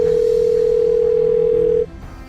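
A phone call goes unanswered: a steady, loud electronic calling tone holds for nearly two seconds, then cuts off abruptly and leaves faint room ambience.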